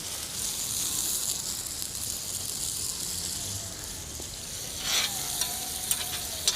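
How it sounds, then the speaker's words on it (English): Pork gravy goes into a hot pan of sizzling pork juices, a steady close hiss and crackle with a louder burst of bubbling where the liquid hits, then scattered pops. "Then we'll pop in the pork gravy."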